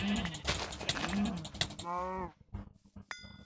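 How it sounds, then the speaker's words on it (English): Cows mooing in Minecraft during a Hypixel UHC match, several low drawn-out moos near and moderately loud, followed by sharper game clicks and a brief tonal chime. "Where are those cows?"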